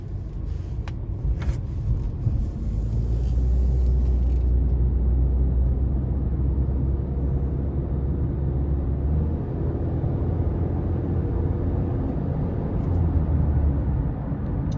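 A 2020 Honda CR-V EX-L with a CVT transmission cruises on the road, heard from inside as a steady, loud low rumble of engine and road noise with no talking.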